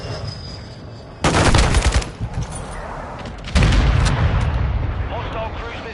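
Heavy gunfire in Modern Warfare 2 comes in two loud, dense bursts of rapid shots and booming impacts, the second lasting longer and fading into rumbling battle noise.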